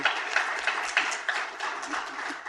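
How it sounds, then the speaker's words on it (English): Audience applause at an international workshop on Buddhist tourism planning, honoring young Riverdale School students; steady, dense clapping from a hall full of people, continuous and moderately loud throughout. "We should give a big clap to this young generation."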